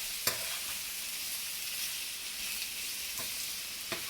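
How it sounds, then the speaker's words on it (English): Prawns stir-fry in hot oil in a pan with a steady, close sizzle throughout, broken by a few faint clicks of stirring. "I've just heated some oil in a pan, and we'll just stir fry this prawns"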